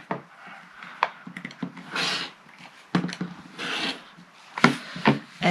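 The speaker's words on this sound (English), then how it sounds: "you're going to make a nice sort of initial cut to get a nice sharp starting corner there" Fabric being cut at the corner of a quilt placemat gives short, rasping scrapes in uneven bursts, close and fairly quiet, with gaps between strokes.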